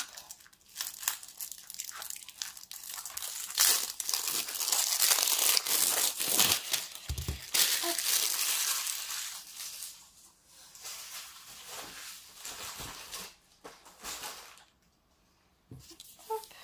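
Loud, close crinkling and rustling of plastic wrapping being handled and torn open on a package of canvases, continuous for several seconds before tapering off into quieter rustles.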